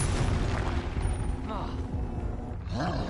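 The Confringo explosive spell bursts in Hogwarts Legacy with a loud, booming, roaring blast and rumbling fire, then further magical whooshes follow, heavy low end throughout.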